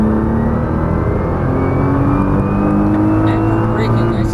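Nissan GT-R engine pulling hard on a race track, a loud, steady high-revving drone with a rising pitch that runs the whole time, while an instructor's voice talks over it.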